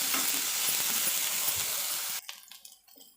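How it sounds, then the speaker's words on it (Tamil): Ginger garlic paste sautéing with onions in a pan for a snake gourd stir-fry, a loud steady hiss of sizzling that suddenly drops away, leaving quieter scattered crackles and clinks of stirring. "இதில் கொஞ்சோண்டு இஞ்சி பூண்டு பேஸ்ட்டு சேர்த்து வதக்கிக்கலாம்"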